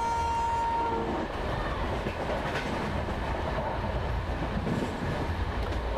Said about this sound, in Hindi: कर्व पे हैं इसीलिए हॉर्न बजा रहे हैं यहाँ पे।